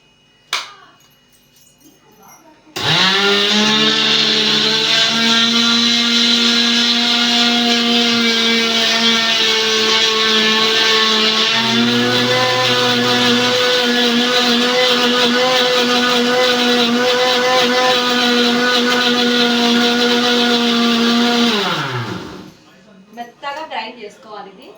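A mixer grinder blends hibiscus leaves, fenugreek and jaggery water, starting abruptly into a loud, steady motor whine that holds for about nineteen seconds, dips briefly in pitch midway, then cuts off.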